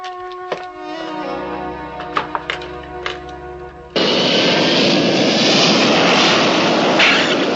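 Loud steady roar of an airplane in flight, cutting in abruptly partway through after a quieter stretch of tonal hum and a few knocks, then holding at a constant level.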